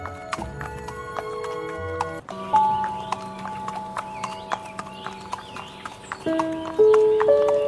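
Horse hooves clip-clop as a rider sets off in an animated fairy tale, a quick run of sharp, close hoofbeats over soft music.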